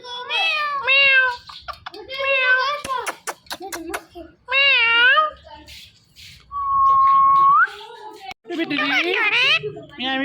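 A parrot imitates a cat's meow, giving a series of loud, close, drawn-out meows in bursts with short pauses between them, plus one steady whistle-like tone.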